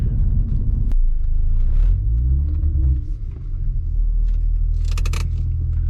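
A 2004-2008 Acura TL fitted with solid engine mounts drives along, its engine giving a steady low rumble and droning hum from inside the cabin, with a brief rattle near the end.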